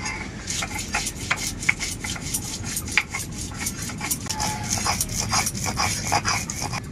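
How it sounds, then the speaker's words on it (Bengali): Ginger is ground into a paste with quick, rhythmic rasping strokes, close and fairly loud, repeating steadily without pause. "আদাটা আমার বাটা হয়ে গেছে"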